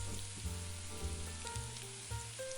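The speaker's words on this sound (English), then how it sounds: "we're adding 2 cups of cherry tomatoes that we've halved using Vince's tip" Halved cherry tomatoes sizzle steadily in a pan with onion, garlic and butter, a close, continuous frying hiss with soft stirring scrapes over a low background tone.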